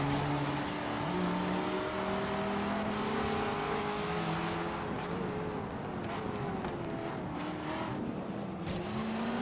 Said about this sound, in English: I love the quad exhaust on these Corvettes.